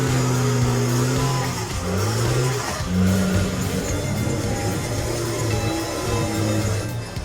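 A John Deere 640H logging machine runs with a steady engine drone whose pitch shifts as it works, accompanied by dense broadband clatter and mechanical noise throughout.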